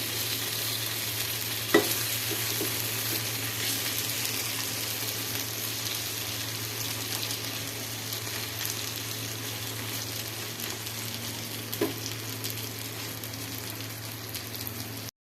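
Tomatoes fry in a pan with a steady, even sizzle throughout, broken by a couple of faint clicks of stirring.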